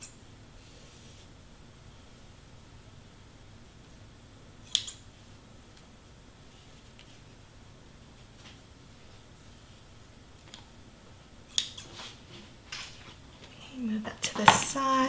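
Scissors cut blue paper for a mini banner, giving a few sharp, isolated snips spaced several seconds apart over a quiet room, with a bit more handling noise at the end.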